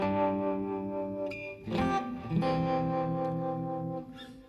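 Electric guitar through a Quad Cortex chorus preset with the depth raised to 60%, ringing sustained chords with a wavering shimmer and a few picked notes, played alone and up close.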